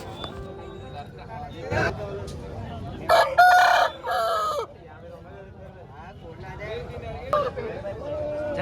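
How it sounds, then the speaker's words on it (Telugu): Roosters and fighting cocks crow a few times amid a busy crowd at a poultry market, with chatter and clucking throughout and two loud crows standing out near the middle. "ఇక్కడ కోళ్ళు కోడిపుంజులు కోడిపిల్లలు కూడా వస్తాయండి"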